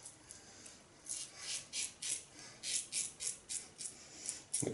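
Razor shaving across the grain with a Phoenix & Beau Citra Royale soap lather, a close, rhythmic series of about a dozen scratchy rasping strokes, each a short bright burst, heard alone.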